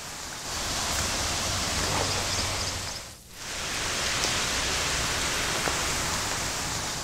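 Heavy rain pours over a flooded residential area of Sutarwadi in Pune, a dense steady roar of falling water that dips briefly before returning at full strength, with no voices.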